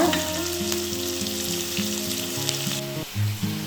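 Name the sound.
onion frying in pan with salt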